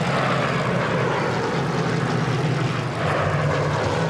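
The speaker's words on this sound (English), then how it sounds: "the privilege of flying one of these planes, and here they come over us look right at now." Spitfire fighter planes roar overhead at the 75th anniversary Battle of Britain event at Goodwood, a loud, steady propeller-engine drone filling the whole stretch with no talk.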